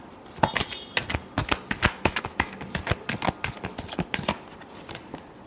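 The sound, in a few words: shuffling tarot cards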